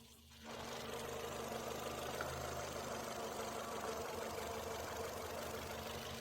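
Ford Fiesta 1.25 engine idling steadily with one spark plug lead pulled off, a continuous close mechanical hum with a faint uneven knock running throughout.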